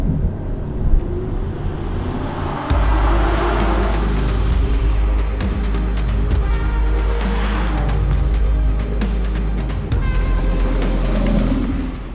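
A V12 sports car engine, an Aston Martin Vantage S V12 or Ferrari 575M, roars loudly, its deep rumble surging and holding as it revs, close and continuous with no talking.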